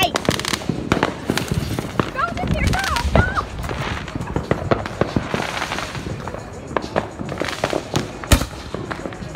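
A Blast Wave Black Box Artillery Shell compact firework going off outdoors, a rapid series of loud sharp bangs and crackles with whistling, while people talk and shout nearby.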